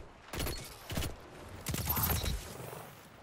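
Faint bursts of rapid gunfire from a pulse rifle and an auto rifle in the Destiny video game, with about three short volleys spread out over a few seconds.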